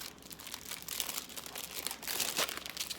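Gift wrap paper crinkles and tears as it comes off a box, a steady run of close crumpling rustles over about three seconds with a louder burst near the end.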